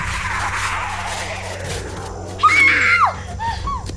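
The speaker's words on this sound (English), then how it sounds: "letting out the most haunting and blood-curdling scream" A woman lets out a sudden shrill scream in the middle of a dramatic scene, a short piercing cry rising over low rumbling background noise and a faint sustained tone.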